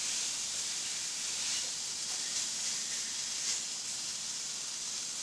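Steak searing in a frying pan, propped against the pan wall to brown its edges, giving a steady, even hiss of sizzling fat that holds unchanged throughout, no voices.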